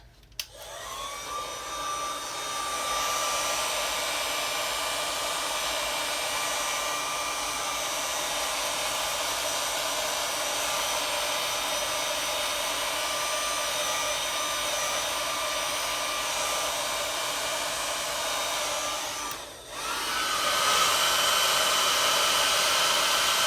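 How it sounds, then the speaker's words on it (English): A heat gun blows over resin coasters in a continuous, close, airy roar that runs steadily for over twenty seconds, dipping briefly near the end before resuming. "Okay, I'm going to take the heat gun to them,"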